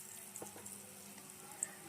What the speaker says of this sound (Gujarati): હવે અંદર આપણે વડાને તળી લઈશું.